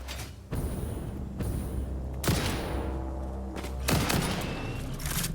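Gunfire in Satisfactory, a few heavy, loud blasts spaced roughly a second or two apart, each with a booming tail over a steady low rumble.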